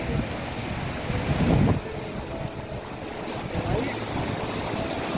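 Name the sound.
fast-flowing icy river water in Yumthang Valley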